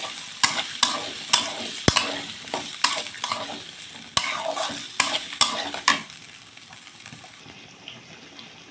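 Boiled potatoes stirred and fried in a spice masala in a pan, with a steady oily sizzle under repeated sharp scrapes and clinks of a spatula against metal, close and fairly loud before it quiets toward the end.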